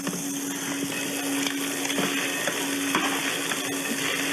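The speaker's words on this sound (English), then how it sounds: "It is sizzling in here." Greens and garlic sear in a hot pan, seasoned with salt and pepper, as scallops and sautéed greens are cooked. A continuous bright sizzle and hiss runs throughout, with a steady hum from kitchen equipment and occasional soft clicks of stirring.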